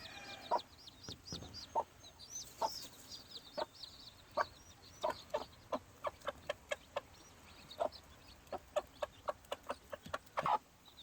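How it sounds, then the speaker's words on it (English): Two-day-old gamefowl chicks peck and chirp around their mother hen in a pen, giving a run of sharp, clustered cheeps and soft clucks close by, with quick taps between them. "They already are pecking and chirping and bumping each other."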